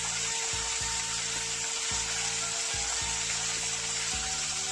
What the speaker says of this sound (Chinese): 继续翻炒，把干辣椒的香味炒出来